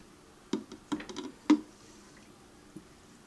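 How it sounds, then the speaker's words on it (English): A sanitized spoon pushes toasted pecans down into homebrewed beer in a vessel, making a few soft, close squishing and knocking taps in a short cluster, then one faint final tap. "I may just shove them down there with my sanitized spoon just to get them all soaking"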